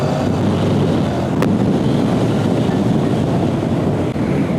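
Continuous loud rushing roar with heavy wind buffeting, as from a motorcycle ridden hard under strong acceleration, steady throughout with no talk.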